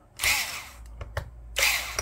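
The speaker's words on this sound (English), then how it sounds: "And I'm going to put in the screws." A power drill drives screws into a Lenovo IdeaPad Edge E545 laptop, with three short whirring bursts and brief ratcheting clicks between them, close and loud, no talk.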